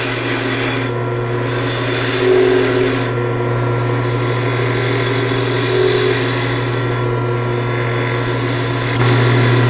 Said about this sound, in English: We're going to use our spindle roughing gouge again, and we're just simply going to shape it over